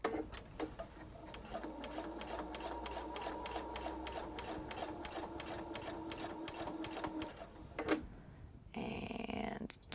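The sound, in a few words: sewing machine stitching a quilted travel tote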